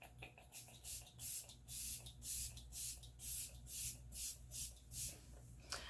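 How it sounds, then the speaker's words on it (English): Makeup setting spray misted onto a face in a rhythmic series of about ten short, close hissing bursts, evenly spaced with brief pauses between them. "Do my setting spray."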